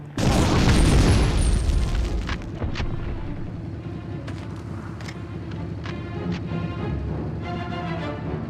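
A grenade explodes in the Medal of Honor video game, a loud booming blast at the start that rumbles and slowly fades into lower battle noise with scattered sharp pops.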